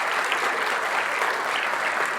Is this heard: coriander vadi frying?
no